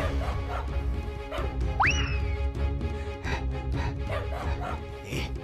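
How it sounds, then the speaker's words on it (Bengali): A cartoon dog yips and barks in short bursts over a busy animated soundtrack of music and effects, with a bright rising boing-like whistle partway through. "এরকম কুকুর দেখিনি বাবা।"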